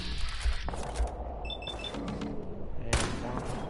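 Gunfire in Fallout 4 comes as several heavy, booming shots in quick succession, loud and close, with game sounds between them.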